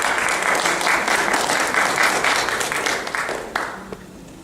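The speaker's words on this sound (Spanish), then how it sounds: "recibámoslo con un fuerte aplauso." An audience in a lecture hall applauds a speaker with dense, steady clapping. The clapping stays loud for about three seconds, then thins into a few scattered claps and fades out.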